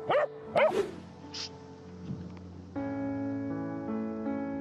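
Two sharp, close barks from a mother dog correcting behavior, followed by a higher yelp, then a steady tonal background hum with no voices.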